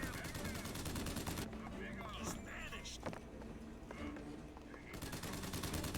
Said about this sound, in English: Somebody's shooting me from somewhere.